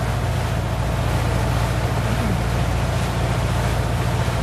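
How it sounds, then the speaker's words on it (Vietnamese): A boat loaded with coconuts moves through the Cai Rang floating market, a steady low engine drone with water wash running throughout, fairly loud and close, with no talk. "bên kia có tàu chở dừa là đông lớn quá trời luôn"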